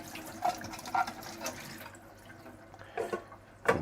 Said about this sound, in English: I want to rinse the other parts.